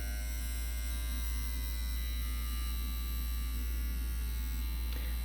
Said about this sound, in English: you can actually hear the volts changing when we change it